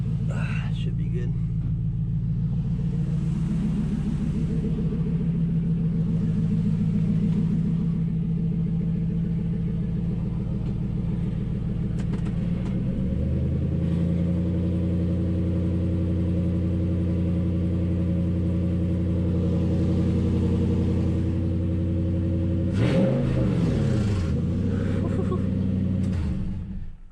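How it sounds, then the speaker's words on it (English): A Nissan Titan pickup idles nearby with a low, steady engine rumble that shifts pitch midway and shows a brief rev near the end, while a loose exhaust hanger adds faint rattling. "That exhaust hanger I had hanging up is rattling."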